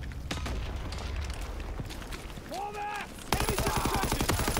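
Gunfire in the World War II shooter Call of Duty: WWII, a burst of sharp rapid shots near the end following scattered reports and game effects, with a player talking over it.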